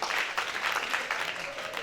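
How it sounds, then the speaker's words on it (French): A church congregation applauds in a burst of dense, steady clapping at close range, with no speech over it. "Vous l'applaudissez Jésus"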